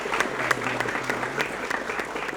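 Audience applause for school principals at a teachers' event at SMP Negeri 21 Palembang, a dense, steady clapping of many hands heard close and alone.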